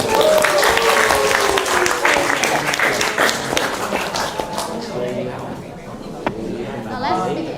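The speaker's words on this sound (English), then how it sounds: "please give a round of applause to our speakers and hosts" Applause from a seated audience for the speakers and hosts at a school teaching contest event, dense clapping that thins out over several seconds, with voices chattering underneath.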